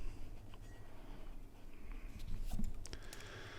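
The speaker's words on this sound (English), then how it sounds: "I'm going to erase my overlaps" A pencil eraser rubs over drawing lines on paper, giving soft, faint scratchy strokes with a few light clicks above a low background hum.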